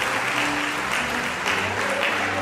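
A church congregation applauds in steady, dense clapping that fills the room without a break.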